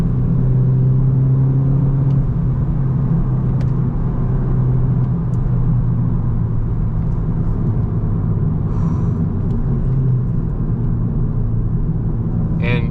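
Volkswagen GTI with a 300 hp engine pulling hard on the road, a loud steady in-cabin engine drone and road rumble running throughout with no break.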